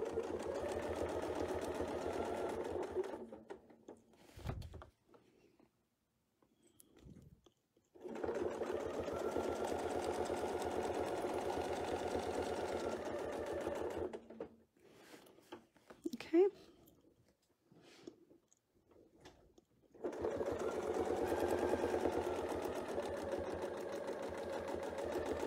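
A sewing machine guided along a Westalee Spin E Fex ruler stitches in three long steady whirring runs, separated by pauses where soft handling noises and a person talking come through.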